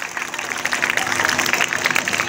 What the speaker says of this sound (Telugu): దీనికి కూడా గట్టిగా క్లాప్స్ కొట్టాలి